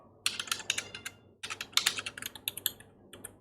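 Quick bursts of typing code on a computer keyboard, crisp close key clicks in irregular runs with a short pause midway, no talking.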